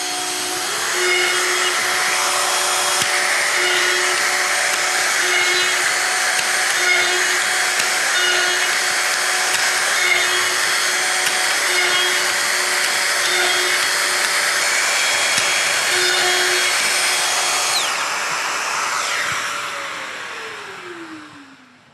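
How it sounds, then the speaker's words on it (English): A Festool drill bores a row of holes for the 32 mm cabinet system, giving a loud, steady motor whine with a hint of dust-extraction roar that runs unbroken for about nineteen seconds, then spins down and fades. "And now I am again starting with my first drill hole."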